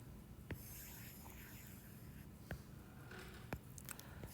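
A marker or chalk taps and scrapes across a board during a math lecture on combinatorial proofs, with a few sharp strokes standing out against a quiet room hum.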